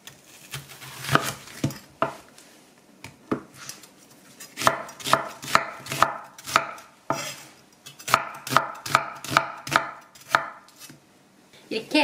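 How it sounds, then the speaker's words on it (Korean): An onion is sliced with a kitchen knife on a cutting board while preparing a Korean potato jjageuli stew. Crisp, close knife strikes land in quick rhythmic bursts, pausing briefly between runs, with no talking. "양파를 썰어 보겠습니다."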